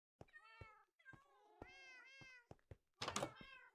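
Several Minecraft cats meow in quick succession in a block-built game world, with short rising and falling cries close together, ending in a brighter, louder mew.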